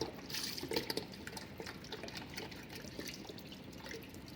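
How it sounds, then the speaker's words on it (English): Chicken broth pours steadily from a jug into a pot with a soft, continuous splashing gurgle, quiet and close, with no talking. "jug of broth in there,"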